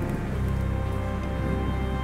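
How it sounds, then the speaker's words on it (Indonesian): Steady heavy rain pours during filming as a dense, loud, continuous hiss with a low rumbling undertone; no distinct thunderclap stands out. "Sorry ya kalau ada noise geluduk-geluduk karena gue emang syutingnya lagi hujan"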